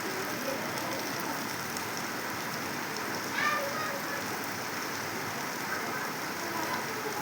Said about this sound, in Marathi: आता बघा मस्तपैकी आलेला मुसळधार बघा